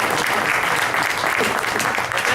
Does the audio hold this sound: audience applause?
yes